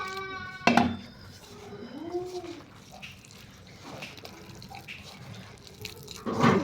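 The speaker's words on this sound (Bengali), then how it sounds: "পানি দিয়ে দিলাম।" Water is poured into a bowl of raw chopped vegetables for a vegetable flatbread, a short splash and trickle followed by wet mixing sounds and a clatter of utensils, close and fairly quiet.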